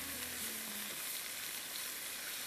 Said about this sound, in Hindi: इसमें मैं थोड़ी सी अदरक डाल रही हूँ चिकन के साथ, और इसको मैं फ्राई कर रही हूँ।